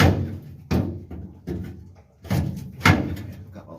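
Heavy metal screen being pulled out of a John Deere 9600 combine, giving a series of loud clanking thunks and scrapes at irregular intervals, close by, with no talking.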